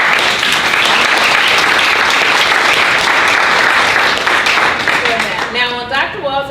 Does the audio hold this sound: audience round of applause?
yes